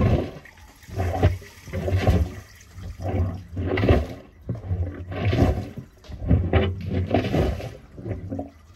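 Water flushes through a drain pipe in lumpy surges, gurgling and rushing in repeated rolling waves that swell and fade, close and fairly loud.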